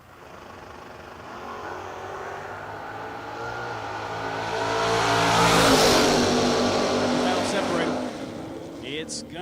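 Drag race launch of a Chevy II and a Camaro side by side, engines building from a steady roar to a loud, broad peak and then fading slightly, with a commentator's voice running over the noise throughout.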